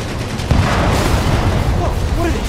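Enemies open fire with guns in the Spider-Man game's City That Never Sleeps DLC. A sudden loud burst of gunfire erupts and continues as dense, rattling shots amid game noise, with a voice speaking faintly underneath.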